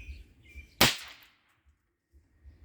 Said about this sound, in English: Ox Slammers by Maddox adult snaps.